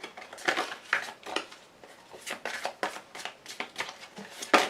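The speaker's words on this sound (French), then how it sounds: "Je vous rajoute une carte de l'oracle bleu." Oracle cards being shuffled and drawn by hand, a close, quick run of crisp riffling flicks and slides in irregular bursts, faint and with no talking.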